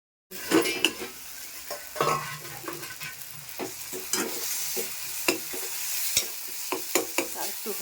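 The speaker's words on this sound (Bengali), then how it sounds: "এখন এটাকে আমি এইভাবেই কষাবো" Spiced masala paste frying in an uncovered pan and stirred continuously, with a constant sizzle broken by repeated clattering scrapes of a metal spoon against the pan, close up and no voices.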